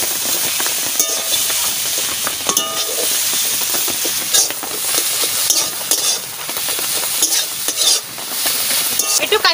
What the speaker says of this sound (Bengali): এই চিংড়ি মাছ এই মশলার ভিতরে আমি দিয়ে দিচ্ছি।